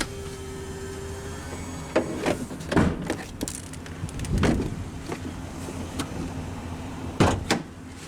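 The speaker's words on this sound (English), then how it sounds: "The driver's window is automatic down." Power driver's window on a 2021 Chevrolet Express 2500 cargo van with a 4.3-litre engine, rolling down. A steady motor whine runs briefly, and several clunks and knocks of varying loudness follow nearby.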